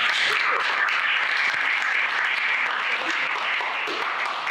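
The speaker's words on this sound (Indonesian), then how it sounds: "Maka sekali lagi kita beri tepuk tangan untuk" Audience applause at an academic presentation session, a steady dense wash of many hands clapping, fairly loud and continuous throughout with no talk over it.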